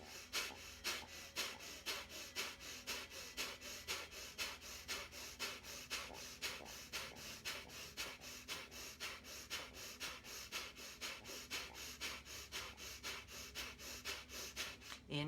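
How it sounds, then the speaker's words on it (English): Slow, deep breaths during a calm breathing exercise, each inhale and exhale rising and falling in a steady rhythm, close and clear with no talking over them. "Inhale. Exhale."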